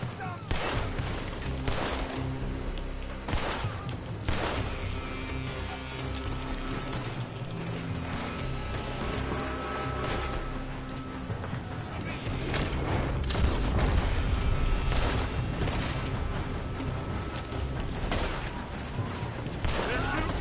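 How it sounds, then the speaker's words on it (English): Gunfire erupts in a Red Dead Redemption 2 encounter, with a dense, continuous barrage of shots and booms under a steady loud game mix, while shouting voices are heard throughout. "They're shooting from that building!"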